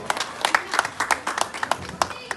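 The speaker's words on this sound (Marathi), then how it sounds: "तर टाळ्या वाजवत आहे." Audience at a family Paithani game event clapping briskly in an irregular burst of claps, fairly close and moderately loud, continuing steadily for a couple of seconds.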